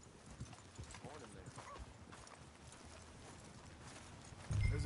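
Horse hooves clip-clop at a steady walking pace in the Red Dead Redemption II video game, fairly close and moderately loud, running under people talking.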